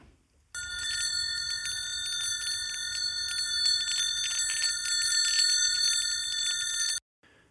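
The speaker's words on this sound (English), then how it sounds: "Here's a set of small bells from the garden." A set of small metal garden bells ring together in a bright, shimmering jangle, sustained for several seconds before stopping abruptly.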